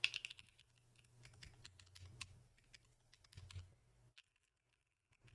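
Typing on a QK80 Mk2 keyboard fitted with HMX Hades switches, case foam installed: close, quiet clusters of keystroke clicks in irregular bursts, stopping near the end into silence.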